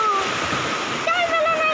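Heavy rainwater pours over a village road in Kalahandi, Odisha, making a loud, close, continuous rushing and splashing, with a voice briefly heard over it.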